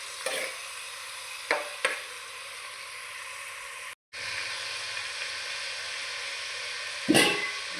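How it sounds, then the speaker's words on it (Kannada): Mackerel frying in a pan, a steady broadband sizzle with a few brief clattering stirs and a short cut near the middle, no voices. "ಸ್ವಲ್ಪ ಅದರಲ್ಲಿ ಫ್ರೈ ಆಗಲಿ."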